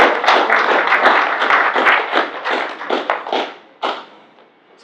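A small breakfast meeting audience applauds a guest speaker with close, loud, uneven claps that fade into scattered single claps and a brief pause near the end.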